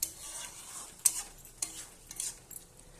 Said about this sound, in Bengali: নেড়ে নেব একটু ভালোভাবে।